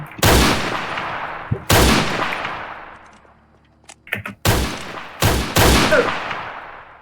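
Several loud, sharp video game gunshots boom close by in separated bursts, each trailing into a long echoing decay, with a brief clatter of smaller pops midway.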